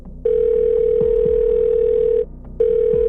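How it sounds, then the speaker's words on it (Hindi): A phone call's ringback tone plays as two long steady electronic tones with a short pause between them, loud and clear over faint background sound. "लिप्सा ने अपना फोन देखा, फिर टिया को कॉल किया।"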